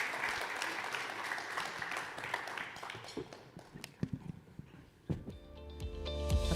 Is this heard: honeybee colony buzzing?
no